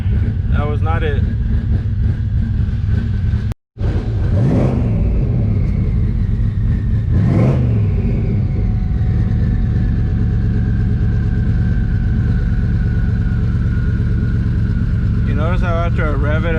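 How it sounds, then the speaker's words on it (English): A twin-turbo Ford Cobra engine with a rough idle revs sharply twice with rising and falling roars, then settles into a loud, steady, lumpy idle. Someone talks over it. "Notice how after I rev it, it'll idle like really good, and then watch, it eventually goes back to idling like crap."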